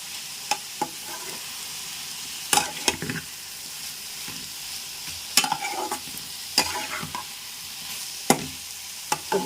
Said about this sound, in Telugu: చూడండి కిందకి పైకి కలిపేసి చక్కగా మగ్గనియాలమ్మా.